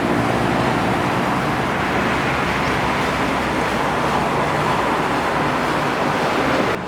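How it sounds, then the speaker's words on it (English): Dense, continuous traffic roar fills a busy Bangkok street, a loud, steady wash of engines and road noise with no breaks. "Straight from the bustling street of Bangkok, with traffic, with noise, with fumes"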